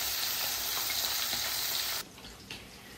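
Fish frying in reused oil over medium-high heat, a steady loud sizzle and crackle that drops abruptly to a quieter hiss partway through, with a brief stir.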